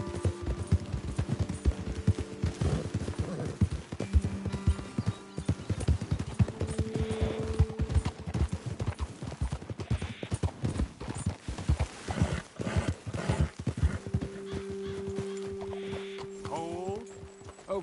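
Horses trot with steady clip-clopping hooves in the Red Dead Redemption 2 video game, a rhythmic close clatter running throughout with occasional voices and game music underneath.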